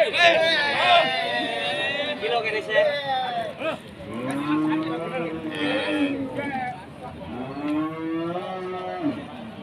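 Cattle moo repeatedly in long, drawn-out calls, close and loud, over a constant murmur of crowd chatter and voices at a livestock market in Pati, Indonesia.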